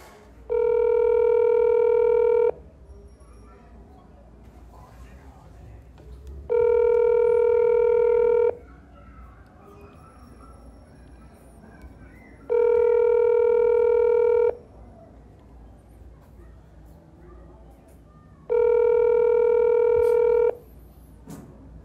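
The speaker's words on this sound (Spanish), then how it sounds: "Estamos llamando al señor Stephen Jane Potter" A phone dials out on WhatsApp, giving four evenly spaced bursts of a steady ringback tone, each about two seconds long, with quiet gaps between them and no one speaking.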